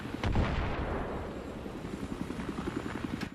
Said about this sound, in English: So I was getting shot at.